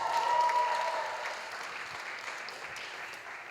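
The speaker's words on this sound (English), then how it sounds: "we'll have a round of applause for these people that are coming forward" A crowd applauds people stepping forward at a church testimony gathering, steady clapping throughout, loudest at the start and easing slightly but continuing to the end.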